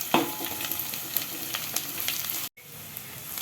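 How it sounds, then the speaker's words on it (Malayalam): Grated coconut and small shallots fry and sizzle in a pan while being stirred, a steady close sizzle broken by scraping stir strokes and a brief cut near the end. "നാളികേരം നന്നായി ഇളക്കി കൊടുക്കാം, ഒന്ന് ചെറുതായി മൂക്കട്ടെ."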